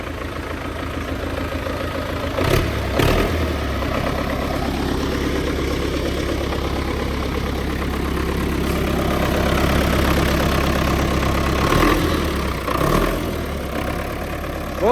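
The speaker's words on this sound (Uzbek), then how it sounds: "Motorda holatlari ham juda tekis ishlayapti." Belarus 82.1 tractor engine idling steadily for a long stretch, with a close, even low-pitched diesel rumble and a few brief louder bursts of knocking or revving.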